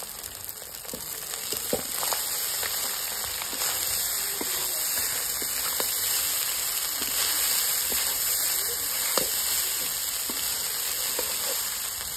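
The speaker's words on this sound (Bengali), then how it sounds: "এরপর আমি ভাতটা এর মধ্যে দিয়ে ফ্রাই করব।" Fermented rice frying in a pan with turmeric, a steady, fairly loud hiss of sizzling oil with scattered small crackles and pops, close and continuous, no speech.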